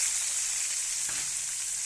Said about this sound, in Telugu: కాకరకాయలు వేసుకొని కొంచెం తిప్పుకుందాం